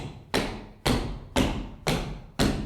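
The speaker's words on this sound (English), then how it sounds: "If I let my whole foot hit the ground" Five heavy thuds land at an even, steady pace as a whole foot strikes the floor flat in a tap dancing lesson, each a close, dull impact that fades quickly.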